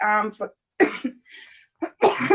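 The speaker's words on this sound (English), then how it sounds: "don't mind the cough, the intermittent bouts of coughing" A person recovering from flu coughs several times in short bursts, close to the microphone, with brief silences between the coughs.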